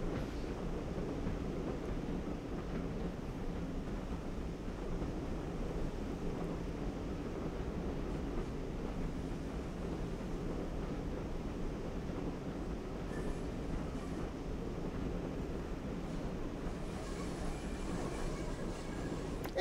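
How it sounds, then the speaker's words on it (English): Train carriages rolling steadily on the West Cornwall Local line in Train Sim World 2, a continuous low rumble and rail noise that holds at an even level throughout with no voices. "we're just bringing these carriages back in again"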